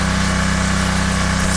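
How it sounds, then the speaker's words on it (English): Softwash equipment pump running steadily while generating foam with a soap additive for a house wash, a continuous loud mechanical drone with a low engine-like hum and no pauses. "you can hear the punch there and the foam generating there with the extra additive"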